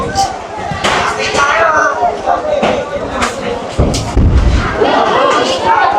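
A deep, heavy explosion booms partway through during a large fire, rolling low and loud amid ongoing chatter and background noise.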